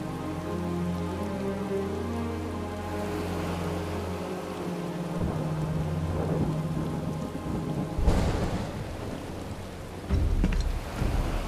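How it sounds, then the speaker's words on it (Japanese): Heavy rain pours steadily in a Final Fantasy 7 Rebirth cutscene, with low rumbling thunder building through the middle and a louder crack near the end, all without voices. "すごい雨だな。"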